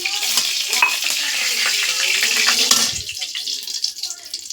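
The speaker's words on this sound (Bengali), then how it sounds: "এবার ডিমের মশলার জন্য কড়াইতে তেল দিয়ে দিচ্ছি" Oil heats in a kadai, giving a bright hissing sizzle with a few small clicks, quieting somewhat near the end.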